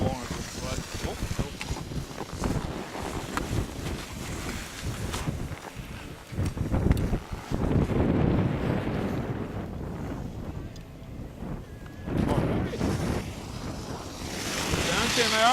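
Strong gusty wind buffets the microphone in loud, rumbling waves over rushing water, rising and falling throughout with brief calmer moments.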